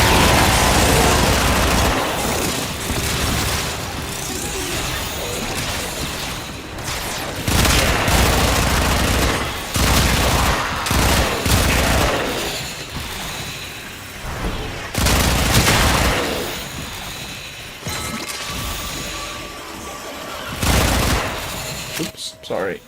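Gunfire and booming blasts from a Warframe video game firefight come in repeated bursts and volleys, loud and close, with someone talking over the action.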